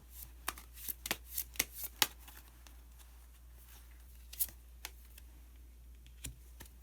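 Tarot cards being shuffled and drawn during a reading, heard as a close, quiet run of crisp flicks and snaps in a burst early on, then a few scattered card sounds alone over a low steady hum.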